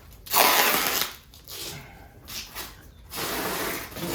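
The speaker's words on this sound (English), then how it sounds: "you secure the pad onto the TV with this tape." Brown packing tape is pulled off the roll with long, loud ripping screeches while a padded TV is boxed. There are several close pulls with brief pauses between them.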